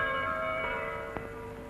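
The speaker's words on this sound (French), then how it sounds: "les cloches de notre basilique racontent à ceux qui savent les écouter" Church bells of the old Saint-Victor basilica in Marseille ring in a steady, sustained peal that hums and shimmers at a distance, with one slightly stronger stroke partway through.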